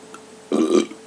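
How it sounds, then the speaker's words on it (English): A single loud, close burp after eating an unknown hot red chile pepper, lasting about a third of a second and rising out of near silence. "Spicy burp."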